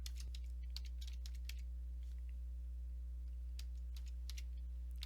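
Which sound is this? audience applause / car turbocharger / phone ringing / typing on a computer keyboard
typing on a computer keyboard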